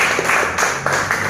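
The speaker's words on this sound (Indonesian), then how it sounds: "Tepuk tangan buat mereka." An audience at a company gathering applauds, a steady patter of many hands clapping with a few sharper accents, fairly close and without talk.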